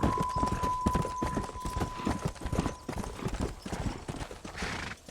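Galloping horse hooves pound quickly and loudly in Red Dead Redemption, a fast continuous clatter over the game's ambient sound with a steady tone underneath.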